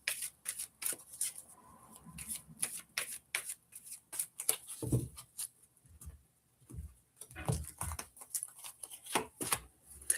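A deck of oracle cards is shuffled close by during a tarot reading, a run of quick papery riffles and slaps in uneven bursts, with brief soft thumps and pauses between them and no talking.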